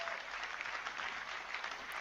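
Audience applauding a speech, a dense, steady wash of clapping from a crowd that holds at an even level throughout, with no pauses or voices standing out.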